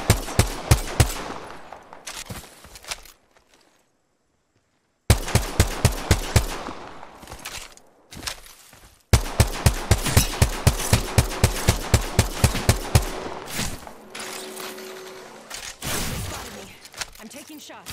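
Bursts of automatic gunfire in Apex Legends come in rapid, loud volleys, broken by short silences and reload gaps, with sharp impact cracks scattered throughout.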